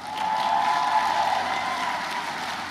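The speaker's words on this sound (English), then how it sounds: "We can give the Mustangs a round of applause." A large audience applauds the Mustangs student athletes at the Montgomery County Community College 2014 commencement, forming a steady, dense wash of clapping that holds evenly for about three seconds.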